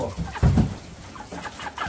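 Small chicks bought as new farm livestock peep and cheep in short bursts, with a louder cluster near the start followed by fainter scattered calls close by.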